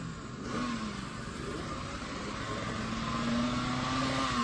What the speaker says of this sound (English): Just warming up the two-stroke.